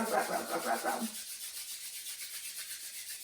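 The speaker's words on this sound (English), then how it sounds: "Take your hands and rub the palms together." Palms rubbed briskly together in a steady back-and-forth rhythm, a close, soft swishing friction that continues faintly throughout, during an outdoor yoga session in the woods.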